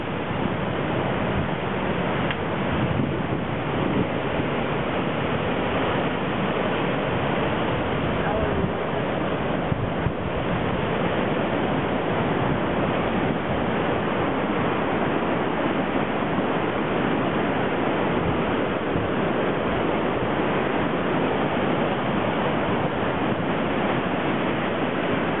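Rushing creek water beneath a trail bridge in the Kings Canyon backcountry on the John Muir Trail makes a dense, continuous roar that fills the whole stretch, steady and loud, with no voices standing out.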